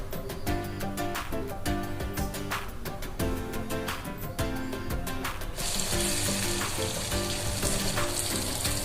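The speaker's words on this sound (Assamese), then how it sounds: "ইয়াত সৰিয়হ অকণমান ফুটাই দিয়া হ'ল" Mustard seeds crackle and fry in a hot pan, a dense steady sizzle peppered with sharp pops. Partway through, the hiss brightens and grows louder.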